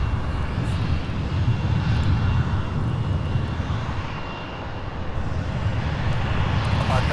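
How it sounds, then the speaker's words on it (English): A Boeing 747 freighter taxiing out from a UPS maintenance hangar gives off a steady, broad jet-engine roar that dips slightly midway and then swells again, heard from a moderate distance with no talking. "So there's a 747 coming, looks like it's coming out of the UPS maintenance hangar."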